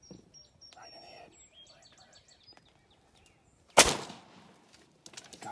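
A single loud shotgun-style blast fired at a turkey during a spring hunt, bursting suddenly after quiet birdsong and chirps, followed by a brief decaying echo and some faint movement.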